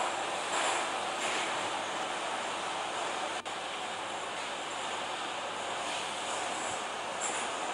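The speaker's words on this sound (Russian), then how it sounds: "Все, Русич прибывает на станцию." A Rusich train pulls into a station in the SkyRail video game, giving off a steady, fairly quiet rolling rumble with a broad hiss. The sound stays even throughout, with no voices.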